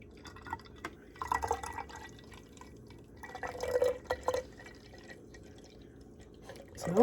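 Homemade oat milk strained through a mesh sieve into a jar, with soft intermittent drips and trickles that come in short bursts and pause between, close by and fairly quiet.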